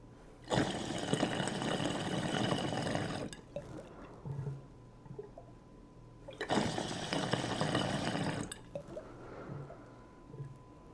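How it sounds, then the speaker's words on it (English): Two loud bursts of water bubbling and churning through a Treecycler glass pipe percolator with a partial accent, each lasting about three seconds, separated and followed by quieter gurgles and drips. "Absolutely dumping bubbles here though. Really nice function,"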